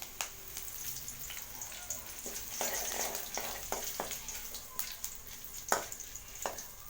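Chana dal and curry leaves fry in hot oil, a faint crackling sizzle broken by sharp intermittent pops and spatters.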